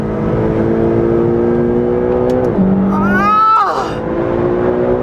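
McLaren GT grand touring car engine accelerating hard on the road, a loud rising drone that climbs, drops briefly at an upshift, then climbs steeply again before easing, up close throughout.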